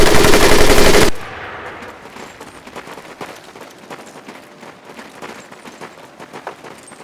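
An M1919A4 .30 caliber machine gun fires in Medal of Honor: Pacific Assault, a loud dense burst for about a second, then scattered distant gunfire pops trail on.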